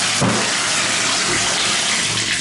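A bathtub tap running hot water at strong pressure into the tub, a loud, steady, continuous gush from start to finish.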